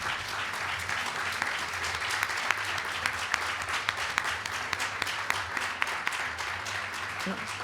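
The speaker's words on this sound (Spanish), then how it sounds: "un aplauso para la autora" An audience applauds the author at a Spanish book presentation, a steady dense round of clapping that carries through the whole stretch, with a low hum underneath.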